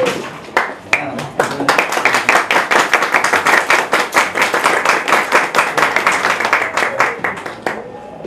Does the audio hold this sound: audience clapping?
yes